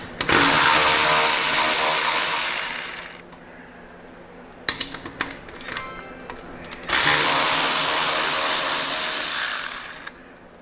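Motorcycle exhaust bolts on a 2024 bagger being run out with a power tool: two loud, sustained whirring bursts of several seconds each, separated by a quieter stretch of metallic clinks and rattles close by.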